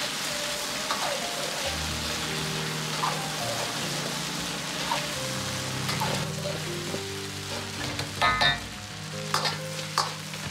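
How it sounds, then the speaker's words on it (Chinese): Scallion whites stir-fried in a hot wok with oil after browned chicken, a steady sizzle and crackle with occasional scraping and clinks of a spatula against the pan. "接着先下入葱白，煸炒出香味。"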